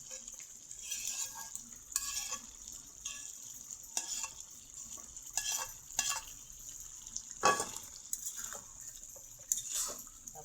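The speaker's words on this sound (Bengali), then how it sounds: "এখন এই যে পটল আর আলুগুলো দিয়ে দিব।" Pointed gourd and potatoes go into a pan of frying beef curry, giving a soft continuous sizzle with repeated scrapes and knocks of stirring at a fairly even rhythm.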